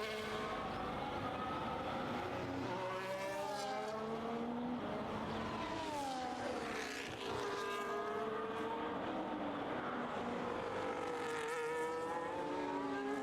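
Simulated race car engine from a sim racing game at a Great Britain round, loud and continuous for the whole stretch, with rising and falling pitch sweeps as it works through gear changes around the lap.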